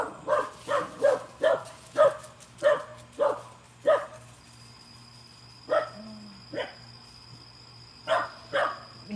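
Dogs bark in a series of sharp, moderately near woofs, several in quick succession and then a few scattered ones, over a low steady background hum.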